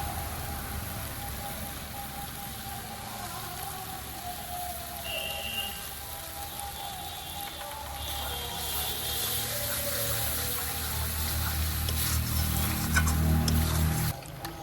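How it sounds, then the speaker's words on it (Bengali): A spice paste with cashew and poppy seed is stir-fried in oil, giving a continuous, rain-like sizzle and spatter that grows slightly louder toward the end. "ওদিকে তো মশলা কষানো হচ্ছে, সব রকম মশলা দিয়ে কষিয়ে নিচ্ছে।"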